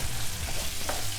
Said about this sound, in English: it's going to add a little spritz of that just to make it fry just that little bit harder